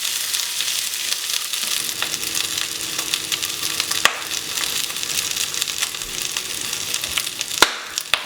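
Beans and lamb sausage fry in a pan on a Weber grill, making a continuous crackling sizzle broken by occasional scraping knocks from stirring, moderately close with no talking.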